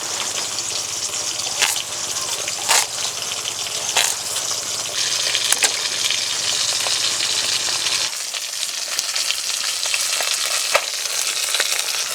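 The remaining fish pieces sizzle steadily in hot oil, loud and close, with scattered spatter pops and utensil knocks. The frying quietens slightly partway through.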